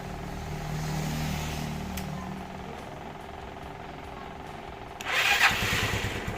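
A motorcycle with a weak, low battery starts on one press, a brief cranking burst that catches into a running engine idling close by after a quieter stretch of background hum.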